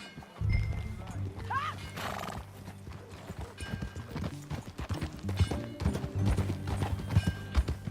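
Horse hooves clip-clop in a steady, irregular rhythm close by, with a brief whinny early on and low background rumble, in the game Red Dead Redemption 2.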